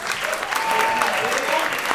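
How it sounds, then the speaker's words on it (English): Audience applause for guests at a live Q&A event, a dense, steady round of clapping filling the whole stretch, with a voice briefly speaking over it. "let's give a round of applause to our guests"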